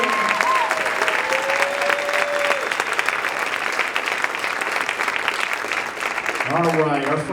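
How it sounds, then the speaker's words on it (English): Audience applause for the senior class at a school jazz band dinner dance: a steady, full round of clapping that fills the room and holds throughout, with a voice speaking over it at the start and again near the end. "how about a big round of applause for our senior class"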